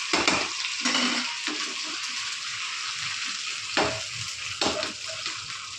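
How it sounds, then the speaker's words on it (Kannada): Jilebi fish fries on a hot tawa with a steady crackling sizzle. A few louder spatters and stirring scrapes rise above it at close range, and nobody speaks. "ರೆಡಿ ಆಯಿತು ಕ್ರಿಸ್ಪಿಯಾಗಿರೋಂಥ ತವಾ ಮೀನು ಫ್ರೈ"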